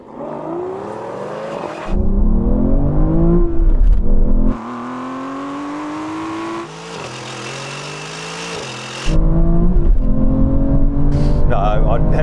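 Aston Martin Valkyrie, Vanquish and V12 Vantage race each other in a drag race, engines revving loud and close with rising pitch sweeps, abrupt gear-change breaks and shifts between onboard and exterior sound, while people talk faintly underneath.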